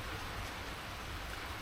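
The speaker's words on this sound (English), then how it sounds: "I love the rain, especially on like a tin roof like this." Rain drums on a tin roof in a dense, even hiss of countless drops, steady and enveloping with no voices.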